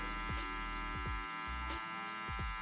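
Electric hair clipper fitted with a half clip guard, lever at three quarters, humming steadily with a dense buzz and periodic swells as it passes softly over hair, close and continuous without talk.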